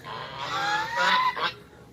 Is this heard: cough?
no